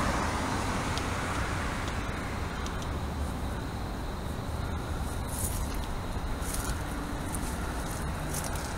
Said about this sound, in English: There are a lot of cars around here tonight. It's not as quiet as normal.